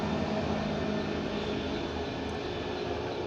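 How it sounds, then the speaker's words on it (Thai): An airplane passes overhead near a military camp, producing a steady broadband engine roar that holds at an even level for the whole stretch, with no talking. "เครื่องบินก็จะผ่านเยอะหน่อย"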